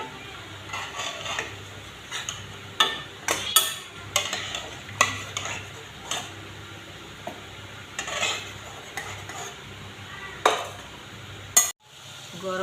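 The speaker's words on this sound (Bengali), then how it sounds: "গরম তেলের মধ্যে পনির ভেজে নিচ্ছি।" Paneer frying in hot oil gives a soft sizzle beneath repeated clinks and scrapes of a spatula stirring in the pan, close and fairly quiet, with the taps coming in an irregular rhythm.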